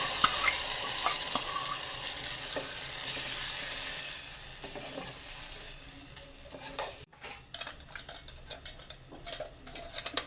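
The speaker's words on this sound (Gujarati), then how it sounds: "તો તેમાં દાળ એડ કરીશું" Boiled dal poured into a hot tadka for dal fry hisses and sizzles loudly and steadily, then after a short break gives way to stirring scrapes and utensil clinks in the pan.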